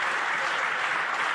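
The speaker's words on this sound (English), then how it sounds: "Well, who's clapping?" A crowd in the House of Commons applauds with loud, dense clapping that fills the whole brief moment, with no voices over it.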